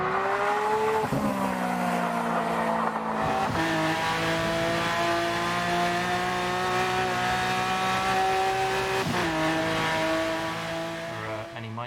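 A Lamborghini Aventador V12 in Forza Horizon 4 revs up through several gear changes, its high rising engine whine dipping at each shift, loud and continuous before easing off at the end.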